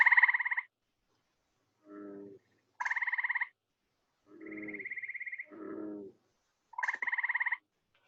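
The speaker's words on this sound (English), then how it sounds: "Here you can see that gray tree frog, and they have a very distinctive call." Gray tree frog calling, several loud, close trilled bursts in a steady rhythm, alternating with lower croaking notes from other frogs, with clean silence between calls.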